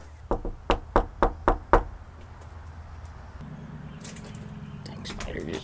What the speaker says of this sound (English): Let me give it a knock.